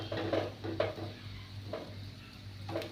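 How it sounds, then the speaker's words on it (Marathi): Stuffed okra (bhendi) coated in masala being stirred and sautéed in a pan: a few distinct spatula scrapes spaced about half a second to a second apart over a soft, low frying hiss. "आता आपण पुन्हा ही भेंडी व्यवस्थित अशी परतून घेऊयात."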